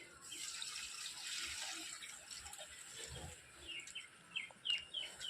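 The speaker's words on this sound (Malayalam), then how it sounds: "എന്തായാലും കുറച്ച് വെള്ളം പാരേണ്ടി വരും." Water pours and splashes onto soil around a taro plant in a garden, soft and close with a few brief gushes, while birds chirp faintly in the background.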